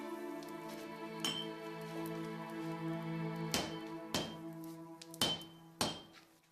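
A hammer strikes heated steel while a samurai sword is forged, landing about six sharp, ringing blows with metallic overtones that hang on between strikes. The blows come closer together toward the end.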